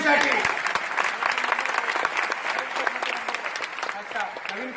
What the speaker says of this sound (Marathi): टाळ्या वाजवा या मुलीसाठी.